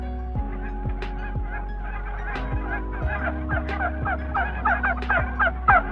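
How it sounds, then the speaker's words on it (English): Geese honk repeatedly over a steady low drone of background music, the calls growing denser and louder toward the end. "And there were geese."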